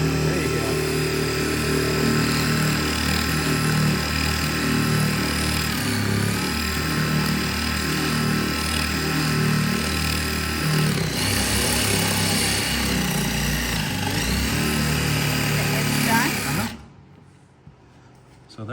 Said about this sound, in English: Drill us a beautiful hole, will you?